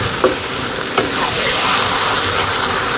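Small fish frying in a pan with garlic and spices give a steady, close, loud sizzle, broken by a couple of light stirring clinks, with no talking.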